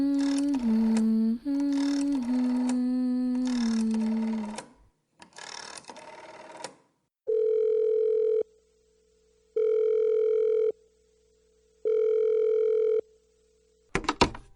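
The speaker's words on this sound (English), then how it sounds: "Hey, Saoirse, would you mind dialing him up?" A telephone call being placed: a quick series of dialing tones gives way to a steady ringback tone that pulses in regular rings, loud and alone with no talk.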